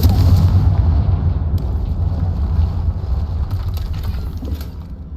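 A heavy, rumbling blast from the Confringo fire spell in Hogwarts Legacy, loud and sustained throughout, with booming low-end debris noise and no talking over it.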